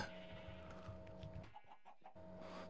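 Chickens cluck in a hardcore survival video game, a handful of short clucks popping up midway through over steady game background sound.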